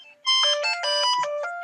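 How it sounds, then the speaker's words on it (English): A mobile phone ringtone plays loudly and close, a bright electronic melody of repeated tonal notes that starts abruptly after a brief quiet moment. "And that was my phone interrupting the recording."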